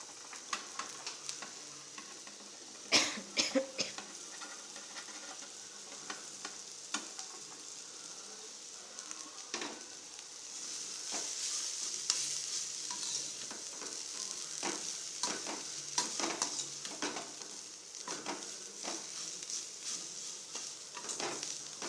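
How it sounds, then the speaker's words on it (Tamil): Steady sizzling of chopped cabbage frying in hot oil, with intermittent scraping and clattering as it is stirred in a pan. "இப்போ நம்ம அரிஞ்சு வச்சுருக்கிற முட்டைக்கோசை அதில் கொட்டிக்குவோம்"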